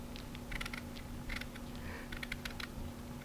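A knife slowly peeling the zest from a Meyer lemon, giving soft scratchy clicks and small creaks in uneven bursts under a steady low hum, close and quiet with no voices.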